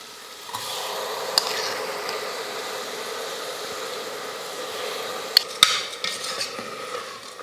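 Rice and moong dal roast in ghee for pongal as a spoon stirs the pan with a soft continuous sizzle, broken by a few sharp metallic clinks and scrapes against the vessel.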